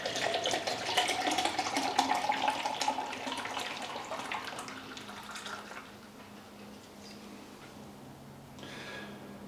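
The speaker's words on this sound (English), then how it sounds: "poured pretty aggressively there, and it's one of the reasons is it is a nitro beer" Chocolate nitro beer poured aggressively from a can, a steady rushing splash of liquid for about six seconds that tapers into a quieter fizzing settle, heard alone at close range.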